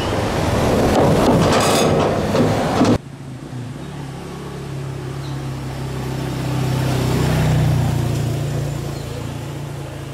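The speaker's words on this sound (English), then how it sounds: "it probably doesn't mind all these car noises" Highway car traffic rumbling beneath a bridge, with a dense, loud rush of passing vehicles for a few seconds, then a steadier low drone of traffic continuing at a distance.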